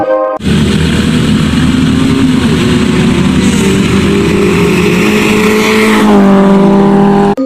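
A Toyota KE70 car engine fitted with a swapped 12-valve carburetor, idling loudly and roughly up close, holding a steady throbbing drone with slight rises in revs before cutting off.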